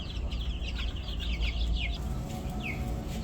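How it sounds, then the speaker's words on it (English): Chickens for sale in a Tractor Supply farm store give repeated short clucks and chirps over a busy, low background rumble, close and moderately loud, with no voices. "I only came here for a couple chickens"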